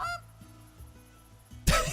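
Geese in a goose hunting video game give one short honking burst near the end, loud and close. Before it there is only a low, steady ambient hum.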